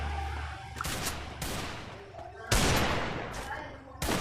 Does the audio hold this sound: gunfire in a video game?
yes